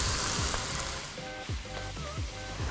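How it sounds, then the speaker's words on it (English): Beef searing in a hot wok, a steady close sizzling hiss with a few quick scraping stirs and clinks of a utensil against the metal, no voice present. "You're always aiming to get your meat in contact with the hot pan as quickly as possible in the wok"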